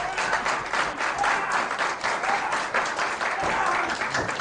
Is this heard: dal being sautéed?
no